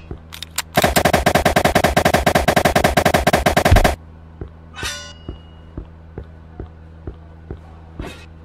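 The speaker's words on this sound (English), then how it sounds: "Use your pistol against them to deal the most damage." Rapid, loud pistol gunfire from the video game LECTRO, a dense burst of shots lasting about three seconds, followed by sparse quieter thuds and a couple of brief whooshing effects.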